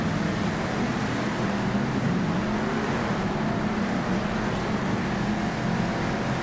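Monster truck engines roaring in the Monster Jam racing game, a steady dense engine drone with no breaks, vehicles jumping and jostling for position on a dirt track.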